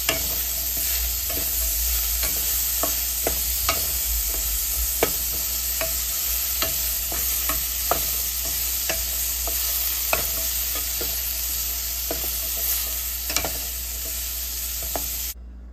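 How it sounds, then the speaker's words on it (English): Pine nuts roasting in a dry pan make a continuous hiss while sharp little clicks and taps of stirring and nuts shifting against the metal repeat irregularly throughout, close and without any voices. "We've got these pine nuts roasting."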